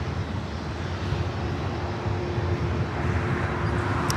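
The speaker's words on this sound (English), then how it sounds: "Next arrival is Delta Connection, SkyWest flight 4133, coming up from Aspen, Colorado." A Delta Connection SkyWest CRJ-700ER jet arriving at LAX gives a steady, loud broadband engine roar with a faint tonal whine that holds throughout.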